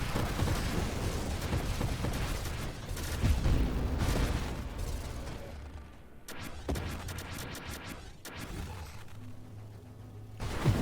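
Rumbling explosions and sharp blasts in the space shooter Nova Drift fill a dense, noisy mix, with several crisp bursts clustered midway and near the end.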